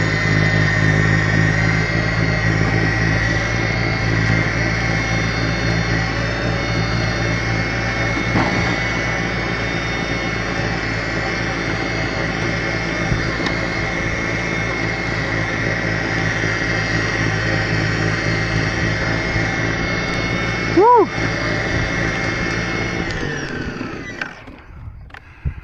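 Ego 56V electric snowblower running at full turbo in Montana snow, a loud steady whirring motor and impeller roar with constant broadband hiss, briefly knocking once near the end before winding down.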